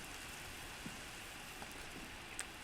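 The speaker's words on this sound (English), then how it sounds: "when it rains like this, it's just going to rain directly into my base" Steady rain pours over a blocky Minecraft-style base, a soft even hiss of drops with a few brief taps, faint and distant, no voices.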